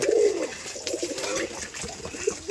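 Rajshahi Giribaj pigeons cooing close by in a repeated low throaty burble, with a louder coo at the start and another near the end over steady background noise.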